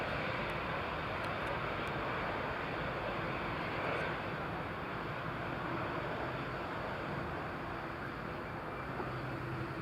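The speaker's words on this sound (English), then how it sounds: "Good to see Tui Dreamliner." A TUI Dreamliner jet roars steadily at Newcastle International Airport during a storm, a broad continuous engine rush at moderate distance mixed with wind buffeting the microphone.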